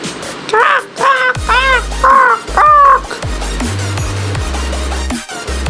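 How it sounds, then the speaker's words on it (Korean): A crow in a video game gives four loud, harsh caws in quick succession, followed by lower game sounds and a muffled background. "까마귀를 산 기념으로 분홍 친구에게 한방 쏴주죠"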